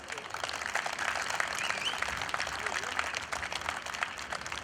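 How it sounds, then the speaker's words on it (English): Alumni audience applauding at a global alumni meet, a dense steady patter of many hands clapping throughout, fairly loud and close, with no speech over it. "Let's give ourselves a huge round of applause."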